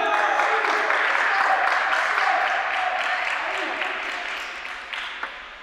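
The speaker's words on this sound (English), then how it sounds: "Dave Leona standing up and cheering." Crowd applause and cheering at a college table tennis doubles match, a steady clapping roar that slowly fades, with a commentator speaking over it.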